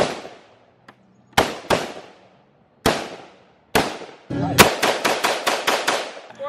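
Gunfire at a Fourth of July celebration as a magazine is emptied: a few loud, close single shots spaced apart, then a quick run of rapid bangs.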